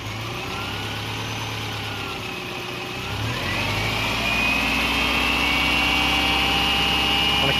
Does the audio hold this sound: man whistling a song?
no